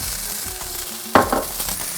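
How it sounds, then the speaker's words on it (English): Small beef pieces fry in oil in a pan, a steady sizzle with a brief louder burst of crackling and stirring partway through, heard up close without talk. "sometimes I like to add just a little more oil to the pan"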